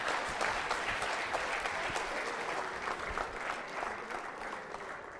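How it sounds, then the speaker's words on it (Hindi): Steady, dense audience applause at a college quiz show during a Valentine's Day event, sustained and fairly loud throughout with no pauses. "तालियां जोरों से बजाइए, तालियां जोरों से बजाइए"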